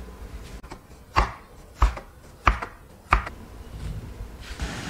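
Taro dough is cut into small taro balls on a board, giving four firm, evenly spaced knife thuds near and fairly loud, with quiet room noise between them and no talking.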